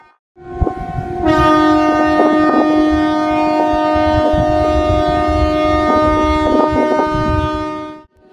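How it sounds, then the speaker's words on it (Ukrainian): Loud, sustained tugboat horns blare together for about seven seconds during a protest at a Black Sea port, the harmonic tones steady and overlapping, with a few brief louder blasts on top. "Буксири вмикали бранцбойти та гудки."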